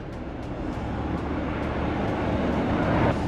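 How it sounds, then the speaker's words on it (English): An American Airlines Boeing 737-800 taking off from Tampa after losing a tire, a steady loud roar of jet engines that swells gradually as the aircraft accelerates, with no speech over it. "An American Airlines Boeing 737-800 loses a tire while taking off from Tampa."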